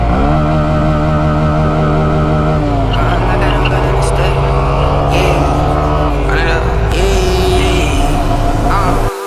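A Honda Grom motorcycle engine revs loudly and continuously up close, the pitch climbing and dropping as it shifts up into third gear during a stunt riding day, with wind rush over the top.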